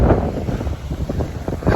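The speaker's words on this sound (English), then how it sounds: "it's windy" Strong wind blows outdoors by the sea at night, buffeting the microphone with a loud, rough, continuous rumble for a couple of seconds, with no voices.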